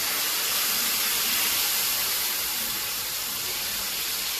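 Hot oil sizzling in a pan while cooking an Egyptian breakfast, a steady, dense hiss that holds evenly throughout with no talking.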